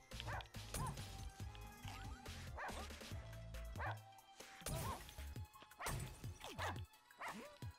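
Sharp yips and barks from a game dog recur every second or so, mixed with crashing game effects and occasional talking, loud and near throughout.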